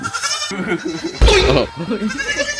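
Upgraded Anglo-Nubian cross and native Barako goats bleating close by, several short wavering cries in quick succession, with a person talking among them.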